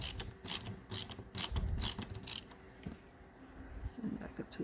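Close ratcheting clicks from a screwdriver loosening the lower door molding screw on a 2004 Saturn VUE, several quick bursts of ticking in the first half, then quieter fumbling.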